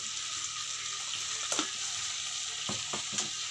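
Okra and potato pieces fry in a pan while being stirred, giving a steady, even sizzle with occasional scraping stirs breaking through.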